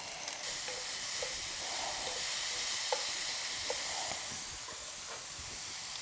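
Lobster pieces sizzle in a hot pan, a steady close frying hiss with a few faint crackles and pops, no voices.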